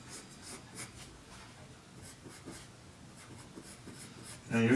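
A pencil scratches lines onto paper in a steady run of soft, close strokes while drawing a cartoon turtle, with a louder scuff right at the end.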